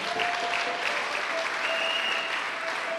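A church congregation claps together at a Sunday service, a dense steady patter of many hands held at an even level throughout, with a faint sustained tone running underneath.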